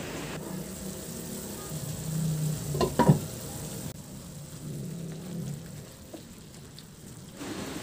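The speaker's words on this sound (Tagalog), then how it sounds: "At isimmer hanggang sa maglambot lang din yung karni" Pork belly simmers in a covered pot with a soft, steady bubbling hiss, broken briefly by a couple of clinks near the middle before settling back into the quiet simmer.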